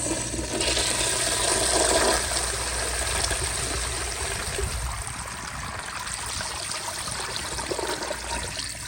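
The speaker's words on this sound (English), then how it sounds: "See, it siphoned. I could hear it siphon, but it was very, very weak." A Universal Rundle Colby urinal flushes with a loud rush of water that tapers into a weaker trickling siphon, heard close and alone.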